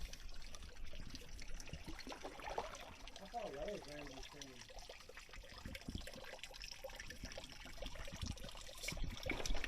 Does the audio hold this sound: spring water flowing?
yes